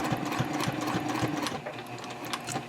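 A sewing machine stitches a triangle pouch in a steady run at a 3.0 stitch length, with a continuous whirring hum and a rapid needle rhythm that holds close and even throughout.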